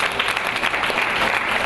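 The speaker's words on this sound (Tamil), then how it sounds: "மாணவர்கள் பிள்ளைகளுக்கு கரகோஷம் செய்யுங்கள்." Audience applause at a temple festival for participating students, dense continuous clapping from a crowd throughout the short stretch, with no voices standing out.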